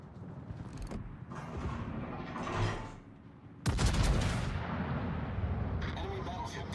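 Heavy naval guns fire in the Warship Masters warship game, rumbling booms and a loud blast partway through, with dense battle noise continuing underneath and a voice speaking over it.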